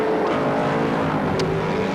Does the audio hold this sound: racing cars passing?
yes